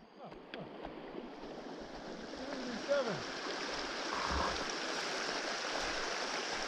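A shallow mountain stream ford on a sunny day on the Jasper-Willmore Loop backcountry trail near Jasper, with steady broadband flowing water running throughout, close and even, while a person speaks faintly over it.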